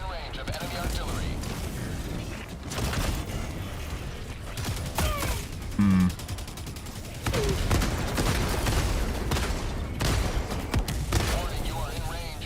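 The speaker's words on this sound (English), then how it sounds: "Warning, you are in range of enemy artillery." Enemy artillery fire and explosions in Helldivers 2, heavy booming blasts and rumbling impacts rolling on continuously, loud and dense, with game voice announcements and other talk over the top.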